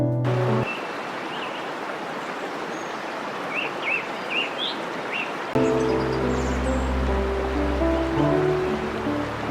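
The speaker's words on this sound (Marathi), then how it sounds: "आम्हाला रस्त्याच्या बाजूलाच असलेल्या जंगलातून एक खळखळण्याचा आवाज ऐकू येऊ लागला" Steady rushing water from a waterfall in the forest beside the road at the top of Amboli ghat, a continuous broadband roar with faint bird chirps over it and a deeper rumble joining near the end.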